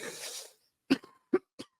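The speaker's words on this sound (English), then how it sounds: "Sorry for my disgusting coughing" Several short, dry coughs in quick succession after a soft breathy noise, fairly close but quiet.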